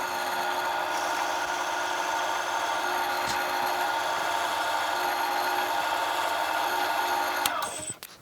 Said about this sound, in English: Then what I will do is to drill this hole to 1 inch deep.